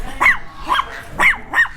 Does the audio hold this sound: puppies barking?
yes